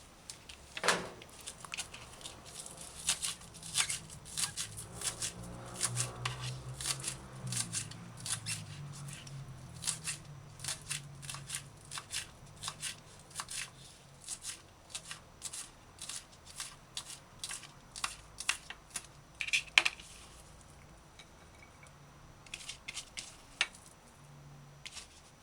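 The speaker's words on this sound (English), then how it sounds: "dice scallion fine." A knife finely dices scallion on a cutting board for a chicken and broad bean stew, giving a long run of quick, crisp, close chopping taps in an uneven but steady rhythm, with no talking.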